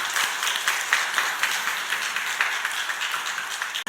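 At a church service, the congregation breaks into rhythmic group clapping, with regular beats that stay fairly loud and even before cutting off abruptly.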